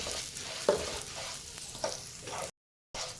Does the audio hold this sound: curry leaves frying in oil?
yes